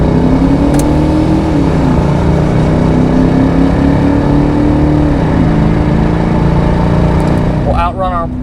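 A 1993 Ford Mustang LX hatchback with a 5.0 V8 and automatic transmission, loud and close, with a steady engine drone and a rising pitch as it pulls away, and a voice briefly heard.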